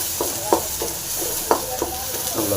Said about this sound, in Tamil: அப்படி வெங்காயம் போட்டுடலாம். அது கூடவே இடித்த பூண்டு போட்டுடலாம். போட்டு நல்லா ஃப்ரை பண்ணிடலாம்.